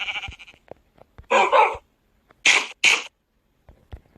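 Three short, nasal sheep bleats in a row from a video game, fairly close, with quiet clicks and small noises between them.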